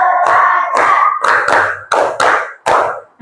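A class claps hands in a rhythmic counting pattern, several loud sharp claps in quick bursts, close and energetic with no talking.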